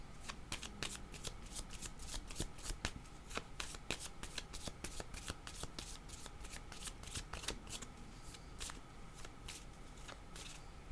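Tarot cards being shuffled continuously and close up, a rapid crisp riffling and flicking that keeps an even, busy rhythm throughout.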